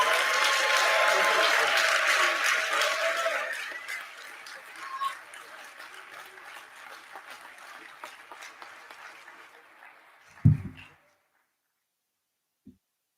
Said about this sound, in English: Let's give a big round of applause for all of our graduates.